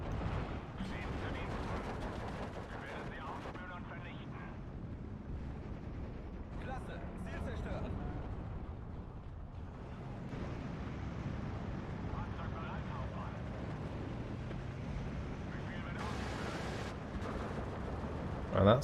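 Mortar and artillery fire in the war video game Steel Division 2: steady rumbling barrages and scattered distant explosions roll on underneath a voice talking throughout.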